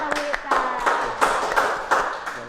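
An audience applauds a guest star at an Indonesian talk event, a few people clapping in uneven bursts up close with pauses between the claps, with some voices mixed in.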